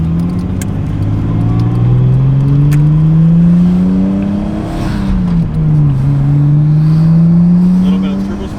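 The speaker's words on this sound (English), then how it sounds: "A little bit of turbo spool." A 2005 Subaru Impreza WRX STi engine revs loud and close, its pitch climbing steadily, dipping briefly, then rising again with turbo spool whine layered over the drone.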